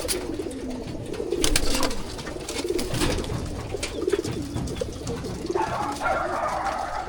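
Racing pigeons cooing at a loft, a steady murmur of soft overlapping coos from several birds close by, with occasional rustling and wing movement in the background.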